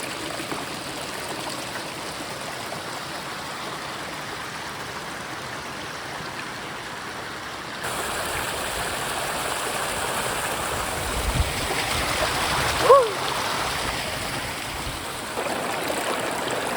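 Cold glacier-fed mountain stream in the European Alps on the Tour du Mont Blanc, a steady close rushing and trickling of water that rises slightly midway, with a brief splash or knock near the end.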